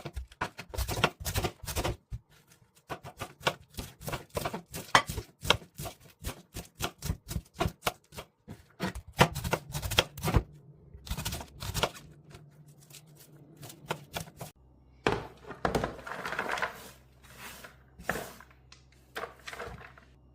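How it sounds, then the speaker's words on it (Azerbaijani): Cabbage being chopped with a knife for pickled dolma, close-up rapid bursts of sharp blade taps on a board with short pauses, no talk. "Kələmi doğramaqla işə başlayıram."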